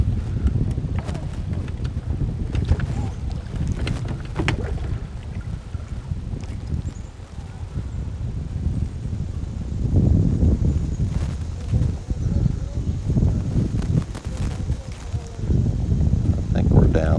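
Wind buffeting a small fishing boat on a lake: low rumbling gusts and microphone wind noise swell and fade across the whole stretch, with occasional knocks and creaks of the hull, loud and close, with no talk.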